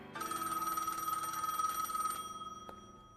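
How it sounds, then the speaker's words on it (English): A telephone bell rings steadily for about two seconds, a bright continuous trill, then cuts off, followed by a brief faint click. "The phone rings"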